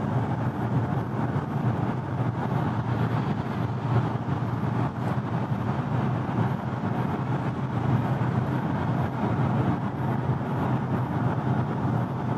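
Steady low road and engine rumble inside the cabin of a 2025 Audi A5 2.0 TDI cruising at 90 km/h, an even, continuous hum with no talking.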